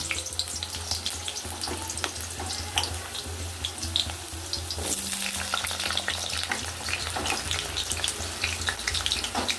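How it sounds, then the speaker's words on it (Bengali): Potatoes, skins left on, fry in hot oil with a steady close sizzle and crackle, broken by occasional clinks and stirring scrapes, no voices. "এবার দেখুন আলুগুলো আমি ভেজে নেব।"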